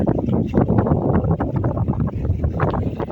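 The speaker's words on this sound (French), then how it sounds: "le vent s'est levé, comme d'hab" Strong wind blows across open water during sea bream fishing, battering the microphone with a loud, continuous low rumble and rapid gusty flutters throughout, with no voices.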